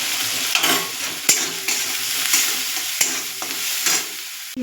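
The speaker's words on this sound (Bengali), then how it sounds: "দিয়ে পেঁয়াজটাকে ভাজা ভাজা করে নেব।" Chopped onions with salt and turmeric sizzle in a pan while a spatula stirs them, sharp scraping knocks breaking through the steady close frying hiss several times.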